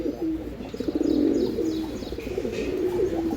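Pigeons bred for racing, offered for sale in Tenali, Andhra Pradesh, coo in low repeated throaty phrases close by, with faint chirps in the background.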